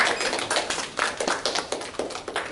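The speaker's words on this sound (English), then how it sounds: "Another round of applause." Audience applause at a 2015 science fair awards ceremony: a dense, steady wash of many hands clapping with a loose pulsing rhythm, moderately close and continuing without talk.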